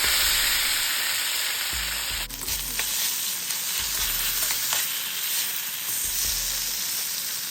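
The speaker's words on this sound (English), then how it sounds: "let's go in to browning our beef." Beef browning in a hot pan for beef chow mein, a steady broadband sizzle and crackle running continuously with occasional spatter pops and a brief stir, close and fairly loud, no talking.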